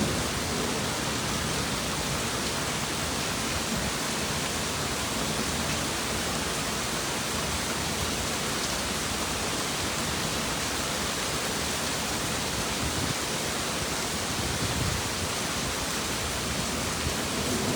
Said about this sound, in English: Just a little thunderstorm. It's not bad. A bit of rain.